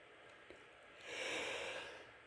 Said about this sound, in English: Is that me yawning or no? That's me.